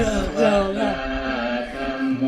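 Monotone Thai Buddhist monk chanting in a low, droning voice, sounding slightly boxy from a small radio speaker, with sustained pitches that rise and fall gently.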